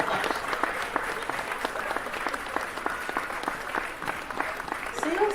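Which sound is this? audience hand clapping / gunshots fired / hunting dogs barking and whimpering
audience hand clapping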